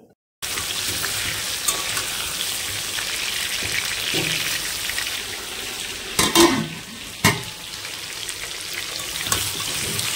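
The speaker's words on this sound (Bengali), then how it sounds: "তো এখানে কিন্তু আমি সবার প্রথমে মাটনটা কষে নেব ভালো করে।" Mutton browning in hot oil with onions, whole garam masala, bay leaves and dried red chillies for biryani, giving a steady close sizzle with a few louder clatters of stirring near the end.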